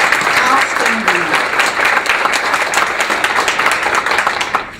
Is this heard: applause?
yes